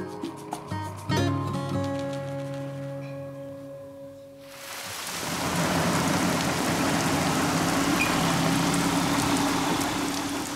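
Heavy rain sets in after a short burst of other sound, then pours steadily and loudly on surfaces for the rest of the stretch; no clear thunder stands out.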